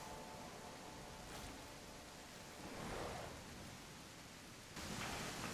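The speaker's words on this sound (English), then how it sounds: "The rain fell harder" Steady rain pours down in a dinosaur survival game, a faint, continuous hiss with no voices and a slight swell toward the end.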